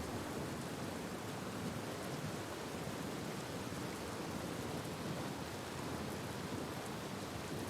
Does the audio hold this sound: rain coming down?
yes